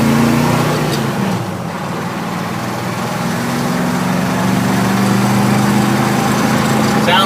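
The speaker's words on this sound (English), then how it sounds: "they're not a very loud muffler at all. It just sounds throaty" A 1973 Ford F100 pickup truck driving, its engine and mild, throaty muffler giving a steady loud drone that dips briefly and rises again, heard from inside the cab.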